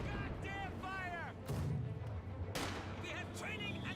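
An incendiary grenade bursts in Company of Heroes 2, two sharp broadband blasts with crackling tails amid ongoing battle noise, while a voice talks over the action.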